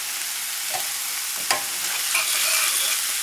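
Vegetables sautéing in a pan for couscous, a bright continuous sizzle with a few sharp scrapes and stirring knocks, the frying hiss swelling slightly toward the end.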